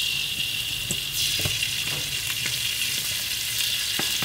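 Garlic fries in oil in a pan as chili sauce goes in, a loud steady close sizzle with faint scattered taps and scrapes underneath, no voices.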